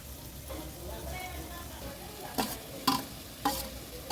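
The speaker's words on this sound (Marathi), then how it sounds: "आता व्यवस्थित हे मसाले आपल्याला तेलावर शिजवून घ्यायचे आहेत" Spices cook in hot oil for dal palak over a wood-fired stove, giving a faint, steady sizzle. A few louder scraping stirs punctuate the second half.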